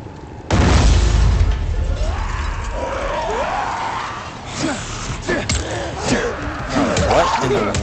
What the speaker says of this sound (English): What in the world was that freaking explosion?